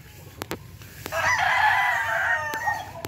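A rooster crows once, loud and close, with a few sharp clicks before and after.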